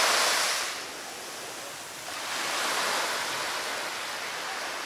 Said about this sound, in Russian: Море ласковое.